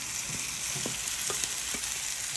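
Breakfast potatoes cook in a frying pan with a dense, even sizzle. Soft utensil scrapes and taps come through close up, with no voices.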